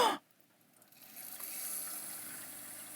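Water runs steadily from a household tap after a brief thump, a soft continuous hiss that builds over a second and then holds at an even, moderate level.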